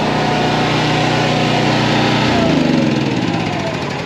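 A pony motor runs on a truck, a loud, steady, buzzy small-engine drone close by that lowers in pitch and roughens partway through, as if throttling down, with no talking.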